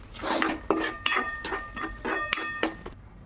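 A spoon scrapes and clinks against a metal pot in a steady series of stirring strokes while mixing moth beans, close up, with no talking.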